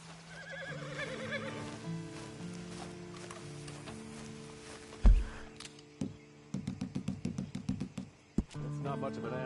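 A horse whinnies amid music and a low rumble in Red Dead Redemption 2, followed by a run of quick clip-clopping hoof taps near the end.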